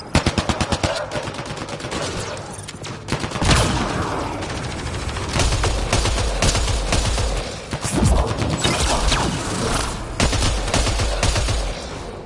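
Rapid automatic gunfire from a Mass Effect firefight rattles in dense bursts throughout, loud and close, with clattering weapon mechanisms and a brief voice in the mix.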